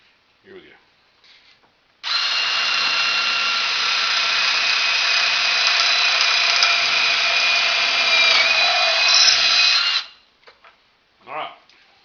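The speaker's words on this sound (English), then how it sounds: "just going to drill straight through with a bit big enough to put a 3/8 inch bolt through" A power drill bores straight through wood with a bit sized for a 3/8 inch bolt while mounting porch swing chains, one steady loud whine lasting about eight seconds, with brief handling knocks before and after.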